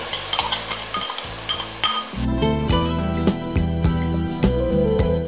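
Soaked toor dal and rice tumble into a pot with vegetables for bisibelabath, a rattling clatter followed by a louder bubbling sizzle and occasional utensil clinks.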